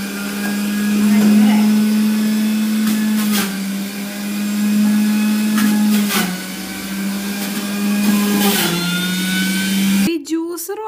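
A juicer runs nonstop making carrot juice, a loud steady motor whine with slight pitch dips as pieces are fed in, cutting off abruptly near the end.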